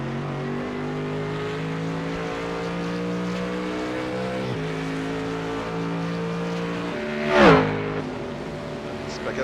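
GT3 race cars lap Sebring in a sim racing game, several engines droning and shifting through gears in a tight pack, with a louder car sweeping past near the end while a commentator talks over the action.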